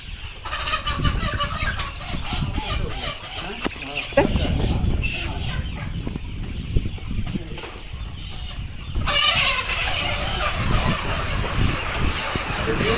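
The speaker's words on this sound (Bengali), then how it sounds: "এখানে প্রায় আমাদের 3000 প্লাস মুরগি রয়েছে" A dense flock of layer hens on a large poultry farm in Dimla, Rangpur, clucks and squawks continuously at close range, a steady barnyard din with people talking over it.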